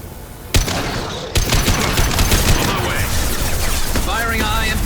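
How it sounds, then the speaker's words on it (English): Rapid gunfire in the Mass Effect 2 colony battle on Horizon, dense bursts of shots following a sharp opening crack, continuous and loud, with voices speaking over the combat. "Firing a high-impact shot."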